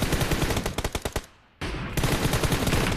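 Rapid automatic gunfire in the mobile shooter BGMI during a team deathmatch: loud bursts of closely spaced shots, a brief pause, then sustained continuous firing resumes.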